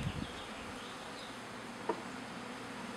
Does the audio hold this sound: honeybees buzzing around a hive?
yes